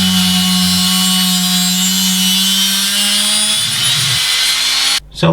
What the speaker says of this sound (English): on the Dremel as well I've doubled up on the cutting wheels to make the cut